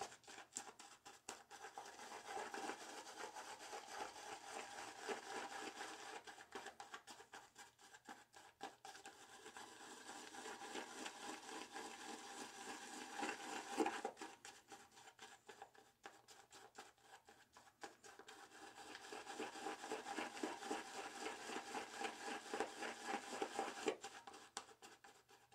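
A shaving brush works lather against a puck of shaving soap, giving a steady, close, wet swishing and rubbing that runs in long stretches with brief pauses between them and no talking.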